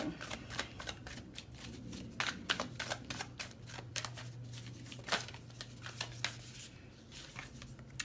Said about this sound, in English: I can't shuffle these cards.